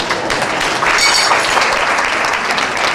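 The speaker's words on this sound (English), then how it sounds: "give yourselves a round of applause" Sustained, loud audience applause fills a lecture hall during a talk on African sacred science and civilization, a dense even wash of clapping with no break across the whole stretch.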